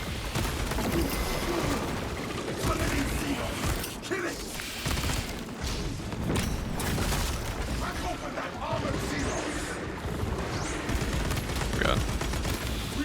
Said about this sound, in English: You're just trying out the Oculus bolt carbine.